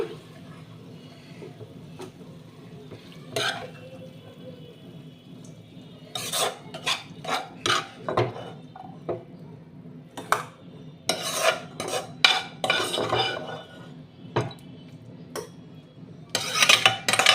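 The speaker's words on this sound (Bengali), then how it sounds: "আমি একটা হাতার সাহায্যে আমি বাটিতে তুলে নিলাম" Egg curry ladled from a pot into a bowl after the gas is turned off, giving scattered metallic clinks and scrapes in short clusters over a low steady hum, louder toward the middle and end.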